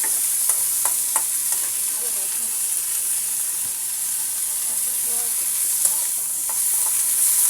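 Taro leaves frying in a pan on the stove, with a steady close sizzle and hiss, broken by intermittent scraping clicks from stirring.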